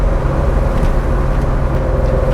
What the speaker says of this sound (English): Those Weber carb conversions do sound pretty amazing.